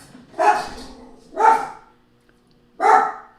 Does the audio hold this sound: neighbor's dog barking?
yes